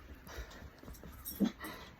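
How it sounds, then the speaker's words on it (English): A dog gives a faint, brief yip in the distance over a quiet background. "It's a dog barking."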